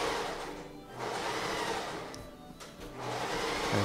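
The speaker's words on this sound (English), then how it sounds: "And don't mind the sewing machine in the background." A sewing machine runs steadily in the background, a continuous whirring drone with slight swells in loudness and no voices.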